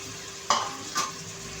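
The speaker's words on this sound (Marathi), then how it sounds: "तेलामध्ये ॲड करायचं आहे आपली हिरवी पालेभाजी" Chopped chakvat and bathua greens hitting hot oil in a pan, giving two quick sizzling bursts over a low steady hiss, heard close with no talk.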